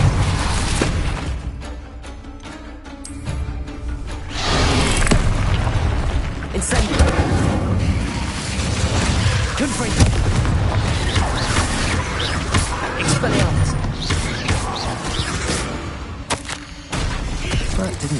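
Spell blasts and explosions boom and crackle in dense, overlapping bursts during Hogwarts Legacy gameplay, loud and continuous with game effects throughout and a voice calling out spells over them.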